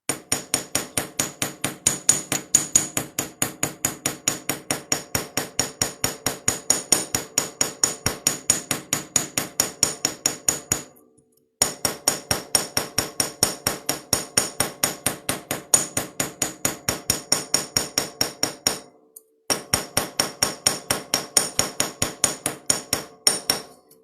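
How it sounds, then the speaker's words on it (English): Chasing hammer peen striking the petal edges of a metal flower pendant: a rapid, steady stream of sharp, close metallic taps, continuing for long stretches with two brief pauses. "I'm going to take my chasing hammer, and I'm going to use the peen part, and I'm going to go around the edges, just the edges of the petals"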